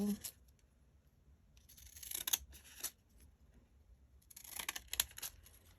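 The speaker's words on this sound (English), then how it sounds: "Now, I'm going to cut these out in the stamp style." Paper ephemera being trimmed with scissors in a stamp style, with soft close snips and rustles arriving in two bursts and quiet pauses between them.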